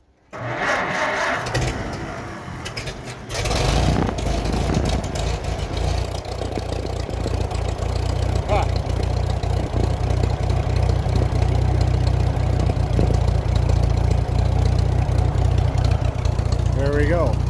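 An Onan engine on an M Farmall tractor, choke out, cranks briefly and catches, then settles into a loud, steady low idle that runs to the end with no talk over it.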